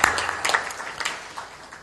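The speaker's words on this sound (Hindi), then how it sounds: "ताली बजा दे इनके लिए" An audience claps for a guest in a short, lively burst of applause, fairly close and loud, fading somewhat toward the end.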